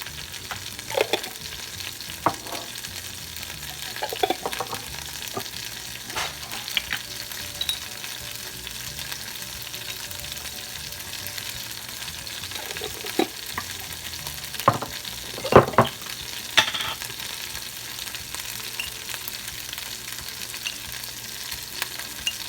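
Green and red peppers, diced onions and minced garlic sautéing in a pan for an empanada filling, a steady low sizzle broken by occasional scrapes and taps of a stirring utensil, no talk.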